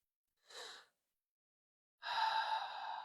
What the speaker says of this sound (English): Breathe in your nose, out your mouth.